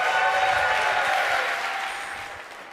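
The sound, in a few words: audience applause at esports event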